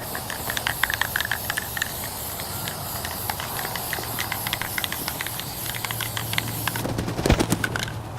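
Spray paint hissing onto a DIY insulated cat house built from recycled materials, laying a black base coat under a blue top coat. Close, steady bursts of spraying repeat with no talk, ending in a brief rattling clatter.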